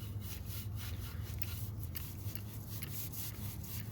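A 1999 Mercedes C230 Kompressor engine is scrubbed to clear an oil leak: a quiet, steady rubbing and brushing that runs continuously for a few seconds over a low background hum.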